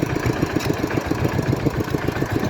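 A tractor engine chugging steadily while driving along toward a rice mill, rapid rhythmic low knocking pulses, loud and close with no talk.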